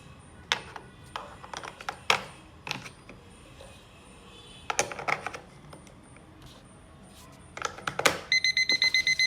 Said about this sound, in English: And the alarm starts up.